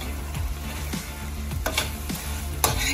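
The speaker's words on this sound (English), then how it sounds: "we're gonna stir everything together" Creamy shrimp Alfredo pasta being stirred in a pan, with repeated spoon scrapes about every half second over a steady close sizzle; no voices.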